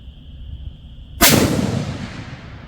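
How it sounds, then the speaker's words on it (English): Bear Creek Arsenal BC10 bolt-action rifle in 6.5 Creedmoor firing one loud, sharp shot outdoors, followed by a long booming decay. "I felt that fourth shot."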